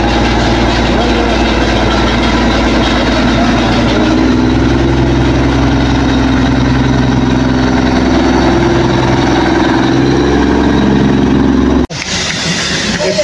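A diesel locomotive of the Darjeeling toy train idles at Batasia Loop, a loud, steady low engine rumble with constant vibration close by before an abrupt cut near the end.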